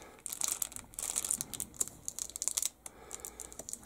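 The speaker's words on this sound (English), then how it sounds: "Maybe this isn't a resealable bag. Well, this one looks like we got to cut open." A plastic model kit bag being cut open, quick crinkling and snipping rustles in rapid bursts with brief pauses, close and crisp, no voices.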